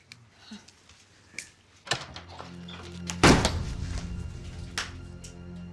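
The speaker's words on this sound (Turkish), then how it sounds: "Kırdın kapıyı." Door in a Turkish TV drama scene being forced and banged open, with a couple of knocks followed by one loud crashing impact and rattling afterward, up close, with no talk over it.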